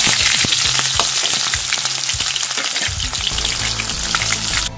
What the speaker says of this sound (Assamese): এতিয়া পিঁয়াজখিনি দিয়াৰ পাছত মাছখিনি দি দিছোঁ